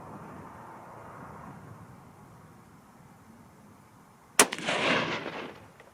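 A single loud, sharp rifle shot from a .243 Win Remington 700 BDL fired at a 100-yard target cracks out after a quiet stretch, followed by a brief rolling echo that fades away.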